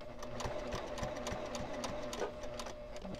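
A domestic sewing machine stitches a pillowcase seam in a steady rapid rhythm of needle strokes with a continuous motor hum, close and clear with no talking.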